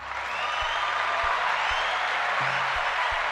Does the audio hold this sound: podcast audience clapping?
yes